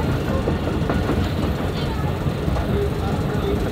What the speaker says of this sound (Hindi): ट्रेन ने जो है ना मेन लाइन से हट के ब्रांच लाइन पकड़ ली है और इसी पे जनाब फुल स्पीड में रनिंग शुरू कर दी है।